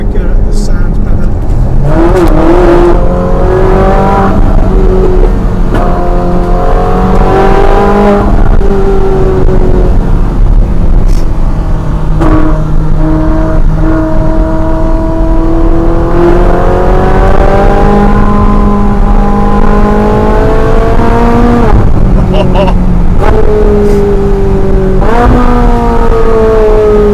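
A Ferrari 458 Spider in race mode accelerates and revs loudly, its engine note climbing repeatedly through rising pitch sweeps over about half a minute, with a voice talking over it at times.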